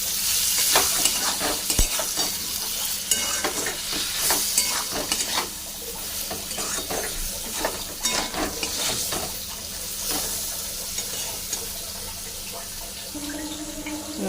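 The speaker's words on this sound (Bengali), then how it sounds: "এবার ভালো করে মশলাটা কষিয়ে নেব" A spice masala with chilli and salt for an ash gourd and lentil curry sizzles steadily in a pan, loud and close, while a utensil stirs and scrapes at an uneven rhythm, with a brief trickle of water near the end.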